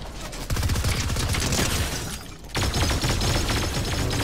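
Gunfire in a Fortnite match: sustained rapid automatic shots from a nearby weapon, loud and dense, with a brief lull before the shooting resumes just as heavily.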